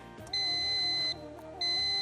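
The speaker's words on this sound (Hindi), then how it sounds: "जी आपने बजर दबाया" Quiz show buzzer pressed by a contestant on a Ramzan-special quiz competition stage: a loud, steady electronic tone that sounds twice, the first about 0.8 seconds and the second cut off at the end, over low studio background.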